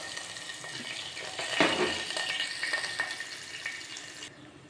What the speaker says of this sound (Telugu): ఆయిల్ తీసుకొని కాగబెట్టుకున్నాక ఉల్లిపాయలు పచ్చిమిరపకాయ తాలింపు గింజలు కరివేపాకు అన్నీ వేయించుకోవాలి